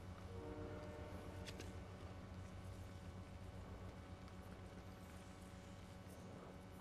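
A train rolls along in the Fortnite video game, its deep horn sounding as a steady, droning chord that holds loud and unbroken throughout, with faint scattered game noises on top.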